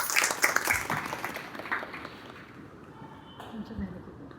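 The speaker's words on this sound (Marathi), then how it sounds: "तर एकदा सौ गौरी मातापूरकर यांच्या ह्या विचारांकरता खूप जोरदार टाळ्या" An audience at a devotional gathering breaks into loud, dense applause that thins out and fades over a few seconds, with a voice faintly present beneath.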